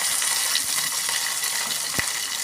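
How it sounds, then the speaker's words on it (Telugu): Green chillies fry in hot oil for a tempering, a close, steady hiss with small crackles and one sharper pop near the end, with no voices. "మంచిగా గోల్డెన్ బ్రౌన్ కలర్ వరకు ఫ్రై అవ్వాలి."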